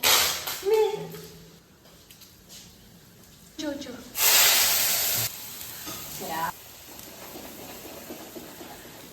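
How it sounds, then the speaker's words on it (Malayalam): Chutney frying in a home kitchen, a hissing sizzle that rises in loud bursts between quieter stretches, with people talking over it. "അപ്പോൾ നമ്മൾ ഇന്നിമോൾ ചട്നി ഉണ്ടാക്കിക്കൊണ്ടിരിക്കുകയാണ് കേട്ടോ."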